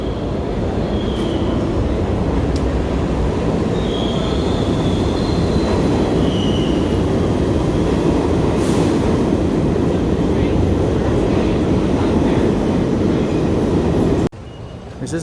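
A loud, steady rumble of a New York City subway train passing close by, with faint metallic squeals riding over the roar, cutting off near the end.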